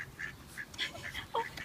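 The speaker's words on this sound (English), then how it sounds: "Oh my gosh, so many turtles and ducks." Ducks quack in short bursts near turtles outdoors, several calls scattered across a brief, fairly quiet moment.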